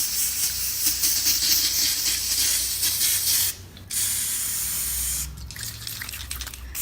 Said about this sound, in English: Just spraying it down, getting rid of all the bacteria.